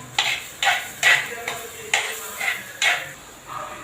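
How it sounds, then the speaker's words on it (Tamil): Turmeric powder being stirred into idli upma in a pan, with a spoon scraping and knocking against the metal in six or seven evenly spaced strokes, close and fairly loud, no talk. "கொஞ்சம் மஞ்சள் தூள் சேர்த்துக்கலாம். நல்லா கிளறி விடுக்கலாம்."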